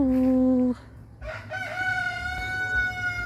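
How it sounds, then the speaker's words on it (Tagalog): Chickens at a laying-hen farm that produces brown eggs, with a loud crow up close at first, then softer clucking and calls from the flock over a steady farm background. "Ito mi sa ilahang manukan nga liing mangitlog nga manok"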